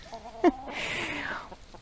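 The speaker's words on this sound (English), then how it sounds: "I have a rooster invasion" Rooster crowing once, a drawn-out, strained call in the foreground with no speech around it.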